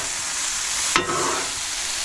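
Cajun-seasoned food tossed in a pan at a campsite sizzles with a constant hiss, broken midway by a quick scraping swish as it is stirred around.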